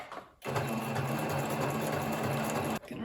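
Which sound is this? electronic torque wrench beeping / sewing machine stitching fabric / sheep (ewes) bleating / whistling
sewing machine stitching fabric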